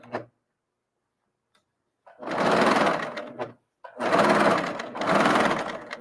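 A serger sewing machine stitches through knit and woven fabric in two bursts of fast, loud, buzzing whir, the second longer with a brief dip, separated by near silence, with a faint click at the start.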